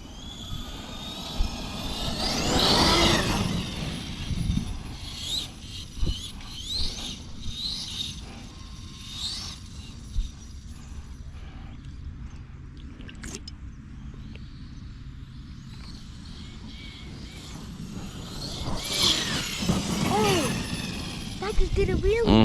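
A Losi 5ive TE large-scale RC car running on a 680KV Castle motor whines and buzzes at a distance, rising and fading as it passes, with voices chatting over it.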